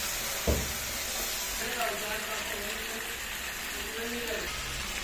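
Mutton kosha frying in a pot, releasing oil with a steady soft sizzle and occasional stirring scrapes, one sharp knock near the start, quiet and continuous throughout.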